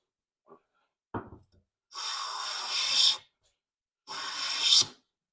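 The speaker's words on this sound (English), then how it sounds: "Edge planing is a dream." A hand plane fitted with a Lake Erie Toolworks blade edge-planes a piece of hickory in two long, close, hissing strokes, each swelling toward its end, after a couple of soft knocks as the plane is set down.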